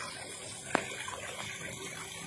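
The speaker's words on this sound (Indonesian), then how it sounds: "Sambil mendengarkan suara gemericik air mancur" A trickling water fountain in a school yard gives a steady, soft wash of running water, continuous and moderately close, with one brief splash near the start.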